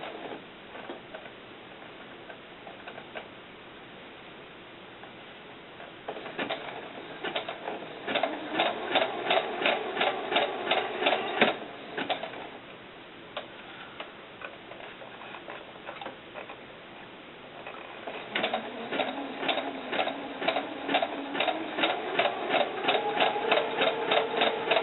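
A sewing machine stitches the hem of a doll's sun dress with fishing line sewn inside, running in two rapid, steady bursts of mechanical ticking separated by a quieter pause, with the second run lasting longer.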